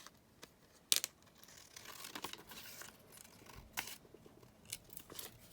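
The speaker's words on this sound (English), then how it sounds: "Quickly cut these out." Scissors cut out painted paper pieces, making soft, close snips and papery crinkles at an irregular pace, fairly quiet and without speech.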